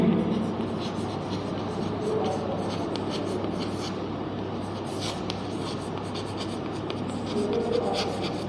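Chalk or marker scratching steadily on a board during a biology lesson, a continuous close rubbing texture with a low hum beneath and a voice speaking over parts of it.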